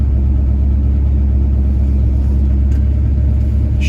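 A 1966 Pontiac GTO engine idles steadily at 1,000 RPM, giving a loud, close, even rumble that holds constant throughout with no talking.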